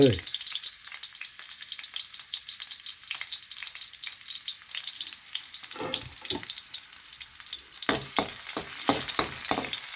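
Garlic fries in hot oil in a wok for a Thai glass noodle salad, giving a continuous bright sizzle with occasional spattering pops and a burst of stirring clanks toward the end.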